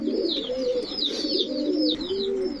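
Pigeons for sale at a hawker's coo steadily in low rolling phrases, with some higher chirps overhead, close and continuous with no talk.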